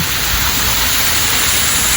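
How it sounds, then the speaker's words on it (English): A waterfall of about fifteen feet drops onto rocks at Point Arena beach in California, a loud, continuous broadband roar with no breaks or voices. "And again, there's the waterfall."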